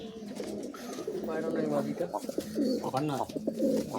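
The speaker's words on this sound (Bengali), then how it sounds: "এটা মাদা পায়রা" Giribaj pigeons, a Kaldom pair, coo in low repeated burbling phrases, close and steady, with someone talking over them throughout.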